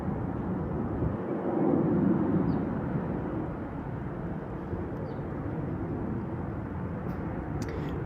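Embraer E175 jet at Salt Lake City International Airport, a steady broad engine roar that swells slightly early on and then holds, heard from a distance outdoors without speech.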